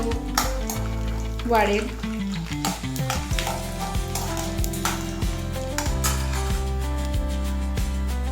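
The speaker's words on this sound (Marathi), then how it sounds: "त्यामध्ये थोडेसे शेंगदाणे मी तळून घेते, जेणेकरून आणखी व्यवस्थित चव" Peanuts are fried in a pan for a spiced rice dish. Sizzling and crackling run close and steady, with repeated rhythmic clinks of a spoon stirring and scraping against the pan. A single spoken word comes at the start.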